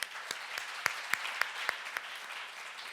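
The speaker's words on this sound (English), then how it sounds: "Please give them a big round of applause." Conference audience clapping for speakers and moderator taking the stage, a moderate spread of applause with a few louder individual claps standing out in a steady rhythm.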